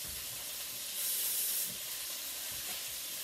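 Cabbage frying and steaming in a pot with a little added water gives off a steady, loud hiss and sizzle throughout, swelling briefly in the middle, with no talking.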